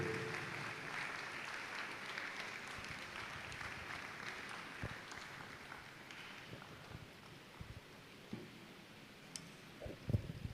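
A crowd of attendees at a World Malaria Day commemoration event claps steadily in a hall, a sustained wash of applause that gradually thins and fades, with a few louder claps near the end.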